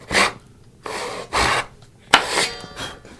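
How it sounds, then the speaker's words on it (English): A hand saw cuts a kerf across a wooden board in four or five close, rasping strokes separated by short pauses, with no talking. "Once I have the saw kind of developed, I'm going to then lower the heel and work back across the board towards my side of the board."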